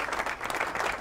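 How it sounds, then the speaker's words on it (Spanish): A live studio audience claps in a brief, dense patter of applause welcoming a guest, steady and moderately loud with no voices over it. "Tenemos los aplausos preparados para Gustavo."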